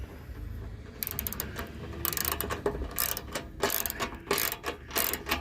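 Ratchet wrench tightening nerf bars on a RAM Rebel pickup truck, with rapid bursts of close, loud clicking repeated in quick strokes throughout.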